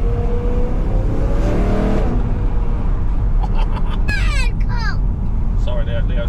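A V8 car engine revs up loudly nearby, pitch climbing and dropping through paddle-shift gear changes, with a deep rumbling drone throughout.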